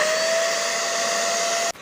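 A household vacuum cleaner runs steadily on a carpet, a loud, continuous motor whine with a high tonal hum that holds level for nearly two seconds before abruptly cutting off at the end.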